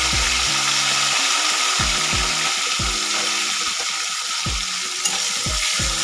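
Garlic and a medium tomato fry together in oil for a fish curry, giving a loud steady sizzle close by. Frequent short spatula scrapes run through it, with no talking.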